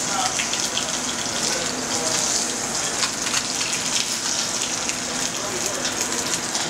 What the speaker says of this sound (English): The garlic and shallots are kind of popping a little bit.